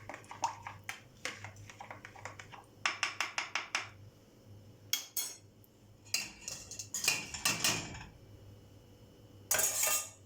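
Hot soup being ladled from a pot into an egg mixture to temper it for Turkish Mülayim soup, with repeated close metallic clinks and scrapes of utensil against pot and bowl, coming in quick bursts with short pauses between.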